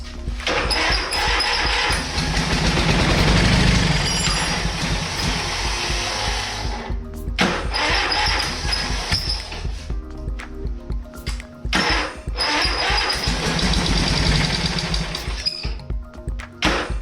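An old trash-picked lawn tractor engine runs in loud, buzzing bursts, cutting out briefly and restarting several times across the stretch, with no talk.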